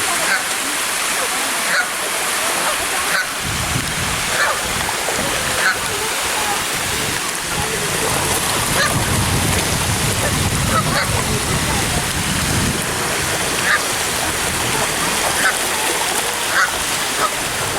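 Water pours over a spillway with a loud, continuous rushing roar and splashing, heard up close, with a few faint voices mixed in.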